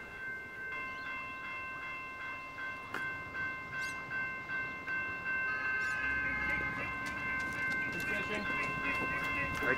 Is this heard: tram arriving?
yes